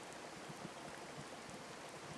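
Rain falling in the visual novel Sakura Spirit, a faint, steady hiss of drops pattering on a surface with no pauses and no other sounds.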